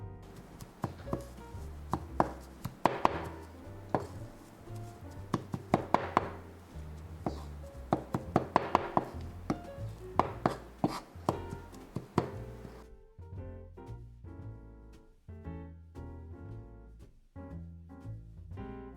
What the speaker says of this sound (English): Add the bonito flakes, then chop and fold as you combine them together.